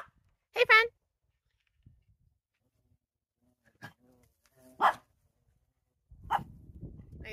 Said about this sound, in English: it stopped mooing when he barked